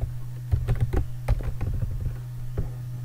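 Computer keyboard typing code, irregular bursts of clicky keystrokes with short pauses, close and fairly quiet over a low steady hum, no talking.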